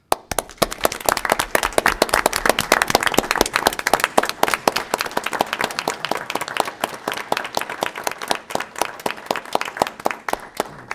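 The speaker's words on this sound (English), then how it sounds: "So I'd like them to get a round of applause" Applause at a village council meeting, fairly loud clapping from a modest crowd that starts dense and thins toward the end, with individual claps audible.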